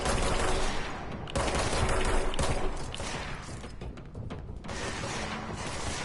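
Sustained gunfire from enemies in the video game Control, a dense, continuous barrage of overlapping shots with thuds, loud and steady throughout with brief dips in intensity.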